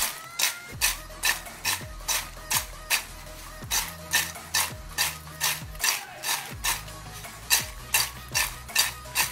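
Fried banana chips tossed with masala, giving a steady run of rhythmic scraping and clinking strokes, about two per second, close and clear with no talking.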